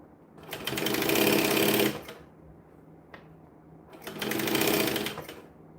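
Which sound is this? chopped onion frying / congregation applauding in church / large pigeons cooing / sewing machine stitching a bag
sewing machine stitching a bag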